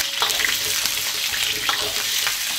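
Pig trotters dropped into hot oil in a wok with ginger give off a steady, loud, broadband sizzle and crackle, with faint scraping stir sounds close by and no voices.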